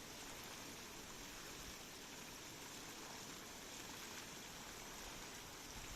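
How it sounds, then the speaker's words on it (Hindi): Ocean waves wash in a steady, unbroken roar of surf, loud and close with a constant hiss and no pauses or voices. "कुछ देर शांत होता हूँ ताकि आप इन लहरों की आवाज़ को सुन सकें"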